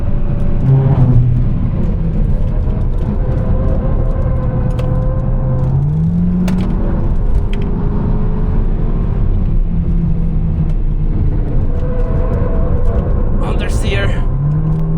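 Car lapping fast on the Nürburgring, a Skoda Superb or BMW M3 race taxi, with loud steady engine drone and shifting pitch sweeps as it accelerates and brakes, a voice talking over the cabin noise.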